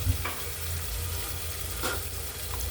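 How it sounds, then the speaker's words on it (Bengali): Beef with garlic and ginger paste and spices being stirred in a hot pan, a steady close sizzle with a couple of brief scraping stirs, no talking. "এবার একটু নেড়ে দিব"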